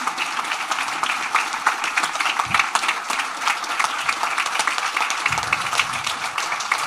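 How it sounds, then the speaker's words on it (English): A round of applause for the speakers at an environmental justice event run by Latino Marin: dense crowd clapping, continuous and fairly close, with a few louder claps, steady throughout and no talking over it. "Can we get an enormous round of applause for our incredible speakers?"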